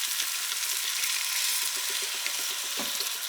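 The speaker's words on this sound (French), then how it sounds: "J'ajoute mes cubes de patates douces, mon lait de coco," Sweet potato cubes and coconut milk go into a hot pot, giving a close, steady sizzling hiss with soft stirring clicks throughout.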